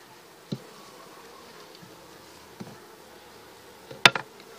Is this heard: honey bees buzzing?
yes